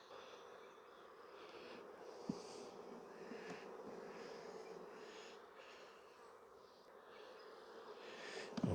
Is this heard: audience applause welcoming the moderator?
no